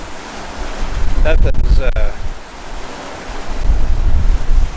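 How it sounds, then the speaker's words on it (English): Ocean waves of six to eight feet rolling behind a catamaran under way, a loud continuous wash and surge with heavy wind buffeting the microphone, plus a brief clatter and a few words spoken partway through. "we've got some 6 and 8 foot waves coming around behind us here."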